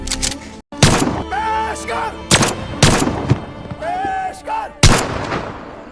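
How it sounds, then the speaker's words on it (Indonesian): Soldiers fire rifles into the air as a final salute to a fallen major and his comrades, about seven loud, sharp cracks spaced irregularly through the scene, with speech and other sounds between the shots. "mereka pun melepaskan tembakan ke udara"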